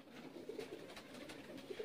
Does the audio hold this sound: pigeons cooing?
yes